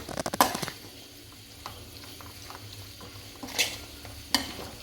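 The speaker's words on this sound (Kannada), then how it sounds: "ಚೆನ್ನಾಗಿ ಮಿಕ್ಸ್ ಮಾಡುವ." Avalakki fried rice mixed in a pan with masala and sauce, a soft close sizzle broken by bursts of spatula scraping and clatter at the start and near the end.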